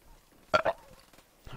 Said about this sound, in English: oh my God, that was an awful burp